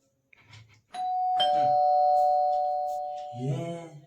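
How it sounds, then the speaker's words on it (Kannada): An electronic doorbell rings with one long, sustained tone that fades slowly, and voices speak briefly just before and after it. "ಈ ಟೈಮ್ ಯಾರು ಬೆಲ್ ಹೊಡ್ಯಾತಾರಪ್ಪ"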